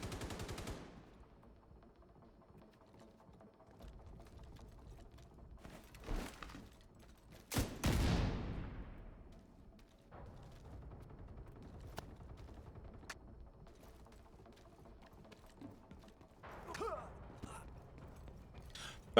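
Gunfire from The Division 2 rings out in several sharp bursts and heavy thumps, a loud volley near the middle, with scattered single shots and brief quiet stretches in between.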